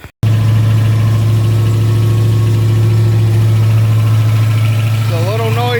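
A Ford Mustang Foxbody engine with Terminator X management, fired for the first time and running without coolant, idles loud and steady, a rough, noisy drone lasting throughout after a brief silent moment at the start.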